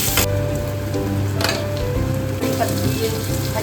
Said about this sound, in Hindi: इसी कढ़ाई में हम डाल देंगे थोड़ा सा जीरा, और सबसे पहले हम अपने आलू को डालेंगे, और इनको थोड़ा सा फ्राई कर लेंगे